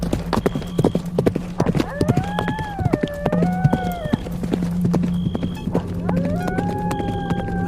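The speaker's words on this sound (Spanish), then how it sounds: "Pronto se dieron cuenta de que era el trote de un caballo." Hooves clip-clop in a steady trotting rhythm while a horse whinnies, with a voice narrating over the sounds.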